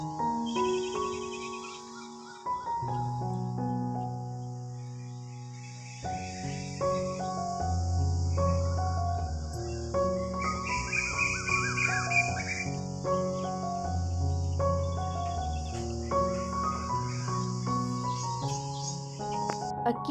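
Early-morning outdoor ambience heard from indoors, with layered birdsong, chirps and whistled tonal calls overlapping continuously and fairly close, alongside a steady high insect-like trill.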